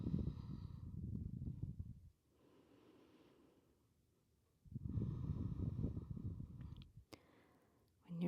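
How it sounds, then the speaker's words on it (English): Slow breathing in and out through the nose during a gentle yoga stretch: two long, soft airy breaths separated by a quiet pause, close and fairly faint, with a small click near the end. "Inhaling through the nose. Exhaling through the nose."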